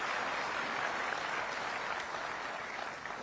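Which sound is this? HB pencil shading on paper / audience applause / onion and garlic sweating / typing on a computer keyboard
audience applause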